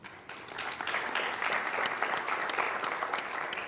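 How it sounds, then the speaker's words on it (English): Audience applause at a talk on Bayard Rustin and civil rights, a dense, steady clapping from a crowd that swells quickly and holds loud for several seconds. "that's more applause than I've gotten in years"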